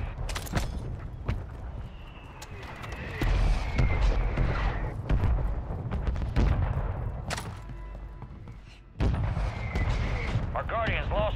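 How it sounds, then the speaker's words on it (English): Mortar shells from a called-in fire mission in Call of Duty Rebirth on PS5 land as heavy booming impacts over constant battle noise, with a large blast near three seconds and another near nine. Game voices talk throughout. "Mortar strike on the way."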